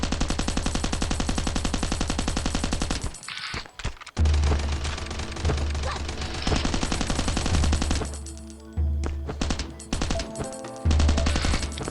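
Rapid automatic gunfire in the survival shooter Last Island of Survival, loud, steady bursts of shots with brief pauses and a low game drone underneath.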